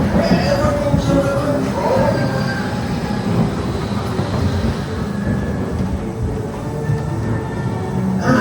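A train at Blackpool Pleasure Beach rumbles along steadily with dense low mechanical roar, rattling carriages and occasional metallic squeals, loud and continuous throughout.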